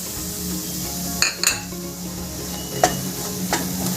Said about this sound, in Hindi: गोल्डन ब्राउन होने तक भून लेंगे।